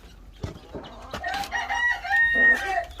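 Chickens and a rooster on a farm with wild fowl and newly hatched chicks, clucking and crowing in a busy overlapping flurry close by, with a short crow-like call standing out near the end.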